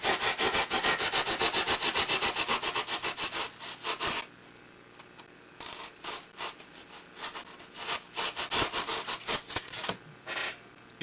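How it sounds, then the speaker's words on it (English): A small saw blade cuts through foam for a rubbled wall on tabletop game terrain, giving a close, steady series of raspy strokes that pause briefly and then resume unevenly. "One of those little bandsaws work really good for doing this."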